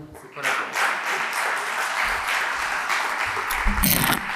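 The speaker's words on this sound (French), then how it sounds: "On peut vous applaudir également." An audience at an inauguration event applauds for a few seconds, clapping rising quickly after a brief quiet start and continuing fairly steadily, with a louder burst near the end.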